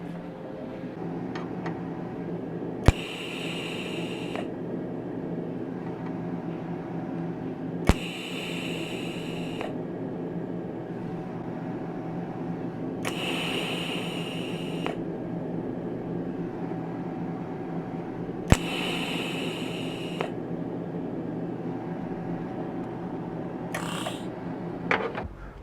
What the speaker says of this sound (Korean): 이제 후기가스를 제가 제거를 한번 하고 용접 한번 해보겠습니다